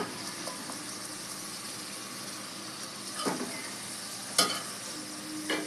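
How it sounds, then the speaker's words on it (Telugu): Goat tripe pieces drop into hot, reddened masala in a pan, setting off a steady close sizzle with a few sharp clatters and scrapes over it. "నేను బోటి ముక్కలు వేస్తున్నానండి."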